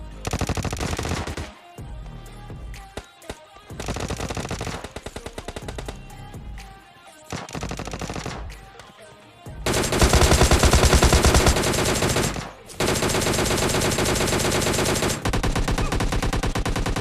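Automatic gunfire from DP and M60 machine guns in a battle royale video game, loud rapid bursts broken by short pauses, growing denser and nearly continuous in the second half.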